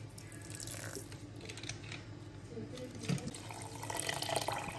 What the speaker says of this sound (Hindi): ये हमने 2 कप पानी डाल दिया।